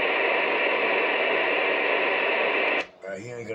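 Two-way radio transmission carrying steady loud hiss and static for nearly three seconds, then cutting off into a brief burst of garbled voice over the channel.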